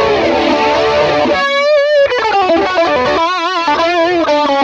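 An electric guitar run through an Axe-FX preset with flanger and stereo chorus plays distorted notes and chords, the sweeping swirl audible on sustained tones, loud and upfront.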